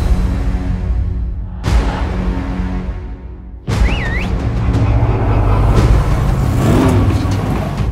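An old taxi-like car called the Chariot of Damnation, styled like a New York cab, roars loudly as its engine revs in abrupt surges, cut by sharp breaks and a brief high squeal.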